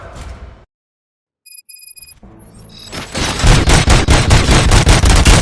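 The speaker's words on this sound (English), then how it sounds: "Gunshots? What's going on?" Gunfire in the video game RoboCop Rogue City erupts after a brief silence and some electronic beeps, building into a loud, rapid automatic barrage of repeated shots that continues to the end.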